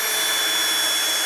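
A Harbor Freight power drill runs at a steady high-pitched whine, loud and close, with a constant motor drone and no talk.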